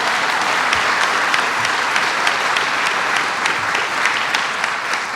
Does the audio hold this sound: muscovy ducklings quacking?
no